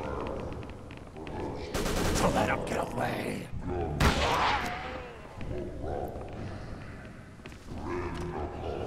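Machine gun fire in the Call of Cthulhu: Dark Corners of the Earth video game, dense rattling bursts of gunfire over a few seconds amid other loud game noise, with someone talking over it.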